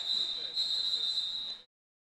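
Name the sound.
referee whistle at roller derby game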